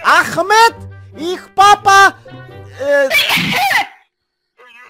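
A girl's sneeze stands out among lively chatter during a Minecraft play session, one sharp burst between stretches of talking voices.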